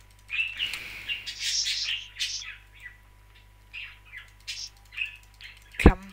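Chickens in Minecraft give a series of short, high chirping clucks at irregular intervals, fairly faint against a quiet background, with a sharp click near the end.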